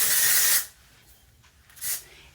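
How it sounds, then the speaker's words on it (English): Two bursts of Kristen Essence Soft Shine Beach Wave Spray misted onto hair: a long, loud hiss of about half a second, then a shorter, softer spritz a moment later, close up with no talk. "spray it with the Kristen Essence Soft Shine Beach Wave Spray to give it some texture"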